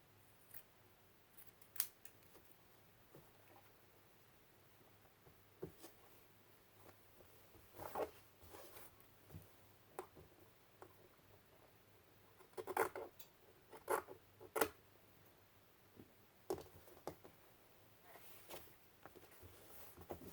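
Scissors snip through quilting fabric scraps in quiet, irregular bursts, soft crisp cuts and rustling cloth close by, clustering more busily toward the middle, with no talk.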